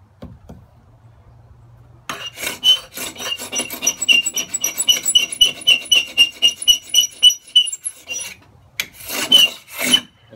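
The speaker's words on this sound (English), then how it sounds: "And start sanding it across." Sandpaper rasps back and forth across a wooden surface by hand, scraping down a high point, in a steady run of close, loud strokes after a quiet start, pausing briefly before a final few strokes.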